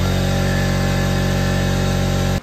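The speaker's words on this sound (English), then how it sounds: "Air compressor decided to cut on" An air compressor runs loudly with a steady, droning motor hum in a car detailing shop, alone and continuous, then cuts off abruptly at the end.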